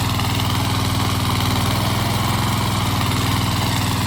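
Tractor engine running in a wet, rain-soaked farm field, a steady close chugging idle with an even pulsing rhythm and no voices.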